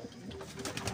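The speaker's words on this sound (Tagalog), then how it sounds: "Ito yung mga ilolod ko, yung ibon" Racing pigeons coo softly and continuously in a loft on loading day before a race, a close, murmuring burble with faint background noise.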